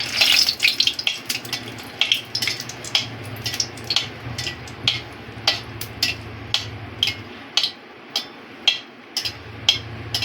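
Three dried red chillies dropped into hot oil, a steady sizzle with repeated sharp clinks and scraping of a utensil against the pan, close and continuous.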